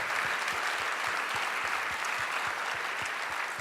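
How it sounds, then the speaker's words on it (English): Sustained applause from a conference audience honoring a state representative from Delray Beach, Florida, at a keynote session; dense, even clapping runs continuously at steady loudness throughout. "Can we give this representative a round of applause?"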